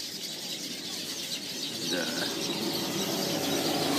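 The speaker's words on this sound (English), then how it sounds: "These birds are just going ape shit." Small yellow African birds calling around their woven nests in a tree, a dense, continuous chatter of many overlapping chirps and squeals at close to middle distance that grows slightly louder partway through, with no talking.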